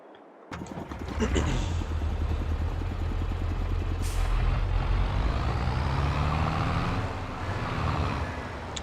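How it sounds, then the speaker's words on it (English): A tractor in Farming Simulator 22 starts up after a brief pause with a pneumatic hiss, then its engine chugs rhythmically and settles into a loud, steady diesel drone. A sharp hiss of air follows midway, like a gear change, and no one speaks. "I love the sound of the tractors now. The gear shift and everything is pretty cool."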